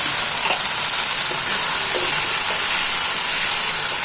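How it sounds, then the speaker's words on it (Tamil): Ginger garlic paste sautéing with salt in a hot pan, giving a loud, constant hiss of sizzling with faint stirring scrapes beneath, close up and without speech. "நல்லா வதக்கிடுவோம்."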